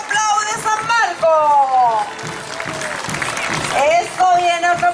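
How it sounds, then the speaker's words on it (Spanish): Applause from a carnival crowd for the diablada dance troupe Corazón de Arica at the 2017 Arica Carnaval in Chile. Dense, loud clapping runs steadily throughout beneath an amplified announcer's voice. "Demos un gran aplauso a la diablada Corazón de Arica"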